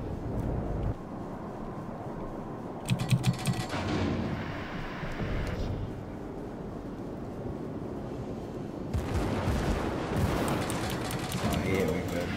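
Heavy naval guns of the New Mexico battleship boom in World of Warships, a couple of close loud blasts with rumbling broadband crashes rolling through a constant engine and sea drone.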